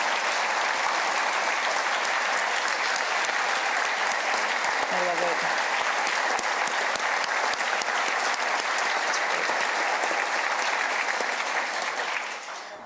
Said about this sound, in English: Please give them a round of applause for allowing us to tell their story.